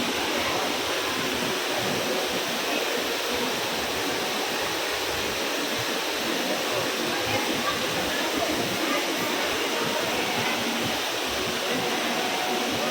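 Loud, constant rushing of a waterfall fills the whole stretch, a dense, even roar of falling water with no pauses.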